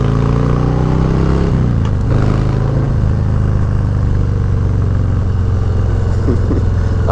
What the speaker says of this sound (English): I just love the sound this bike makes.